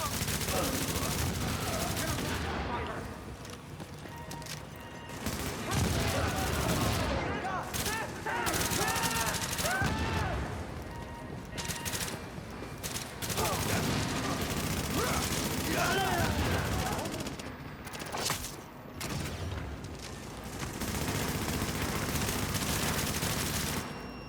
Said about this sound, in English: It's a weird sounding gun that guy had to my right.